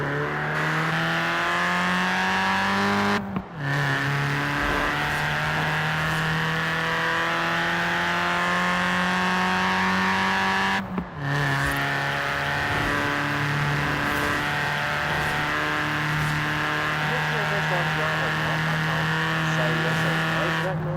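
Honda Civic CRX Mugen in Forza Horizon 4 revving hard, the engine note climbing steadily through the gears with two brief drops at gear changes, loud and continuous throughout.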